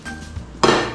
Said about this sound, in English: So, flip your pan,